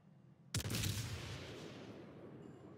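Warship guns firing a salvo in the video game World of Warships: one sudden heavy boom followed by a rumbling, slowly fading roar, heard alone.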